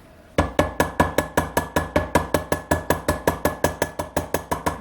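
A ball peen hammer taps steadily on a gasket sheet laid over the edge of an engine part, cutting out a gasket; about twenty sharp, evenly spaced metallic strikes ring out close and loud with no talking.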